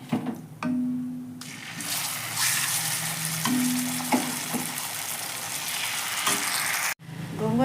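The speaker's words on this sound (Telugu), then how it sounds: "ఇవన్నీ బాగా వేగాక గోంగూర చెక్కుని దీంట్లో వేసుకోవాలి" Gongura chutney fries in a kadai after a mustard seed and curry leaf tempering, a loud continuous sizzle broken by repeated scraping stirs of a spoon, with no talk.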